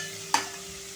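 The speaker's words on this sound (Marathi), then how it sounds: "भोपळा आपण परतून घ्यायचा आहे" Finely chopped pumpkin being sautéed in a pan: a single short stir scrape cuts through a faint, steady sizzle.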